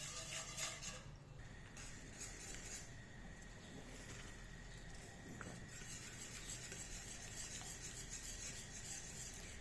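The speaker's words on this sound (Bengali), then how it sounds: "কন্টিনিউয়াসলি নাড়তে হবে যাতে সাইড থেকে কোনোভাবে দলা না পেকে যায়।" Custard lachcha semai being stirred continuously in a pan off the heat, a steady scraping rasp of spoon against metal running throughout at moderate, close level with no voices.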